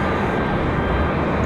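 Avelo Airlines Boeing 737-700 arriving at Raleigh-Durham International, a loud, steady broadband jet roar that fills the whole moment without letting up, close by and with no other sounds over it.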